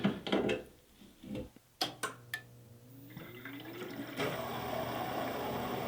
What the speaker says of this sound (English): fire up the pump